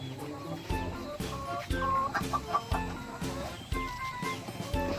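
Laying hens in a small backyard flock clucking close by in a repeated, rhythmic series of short calls, moderately loud and without talk.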